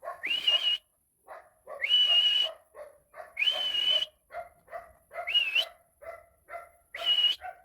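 Several dogs bark and yelp in repeated bursts, the calls rising and falling in a loose rhythm with short gaps between them, nearby and fairly clear.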